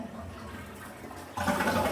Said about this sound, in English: then we'll flush the toilet